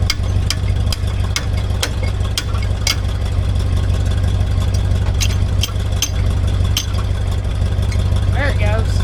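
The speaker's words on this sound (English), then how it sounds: "The PTO doesn't sound great." A free truck idling with its power take-off (PTO) running, which sounds rough: a steady low engine rumble with sharp ticking and clanking transients throughout, close and loud, with faint voices nearby.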